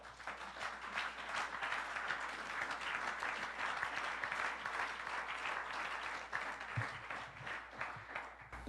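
A church congregation applauds steadily and loudly for the whole stretch, a dense unbroken wash of clapping that swells slightly without pausing and has no voices on top.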